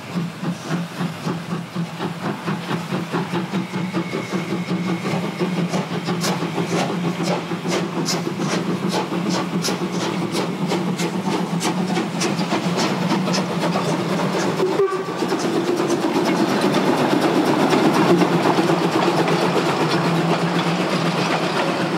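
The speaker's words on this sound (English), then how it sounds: "Pièce de résistance at Bertsdorf is the simultaneous departure of the Jonsdorf and Eubien trains." Two narrow-gauge steam trains, the Jonsdorf and Eubien services, pull out together from Bertsdorf station, a steady loud rumble with rhythmic clicking of wheels over rail joints and a brief hiss partway through.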